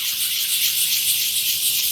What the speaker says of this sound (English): this side just needs a little bit of sanding on this edge